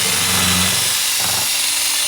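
Power drill whirring as it scrubs rust off a vintage metal circle cutter after an Evaporust bath, a steady close motor drone whose pitch shifts partway through, with no talking.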